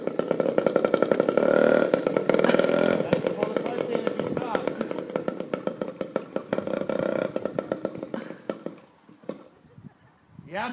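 A small pedal-started motorbike engine sputters to life and runs loud and close, a rapid buzzing rattle that revs then slows into separate popping beats before dying away, with voices talking over it.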